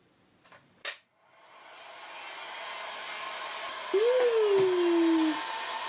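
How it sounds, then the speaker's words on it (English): A hot air gun blows with a steady airy hiss that swells in, preceded by a couple of sharp clicks and joined by a short whistling tone partway through. "Hot air gun!"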